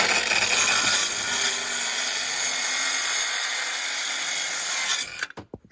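A saw rips through clamped lumber for a woodshed build with a loud, continuous, close-up cutting roar lasting about five seconds before stopping abruptly with a few knocks.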